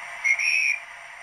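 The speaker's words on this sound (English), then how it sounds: "23, I should say, is the guard's whistle." A guard's whistle sound effect from a Class 67 model locomotive sound unit gives one shrill, steady blast of just under a second, ending abruptly, with no talk.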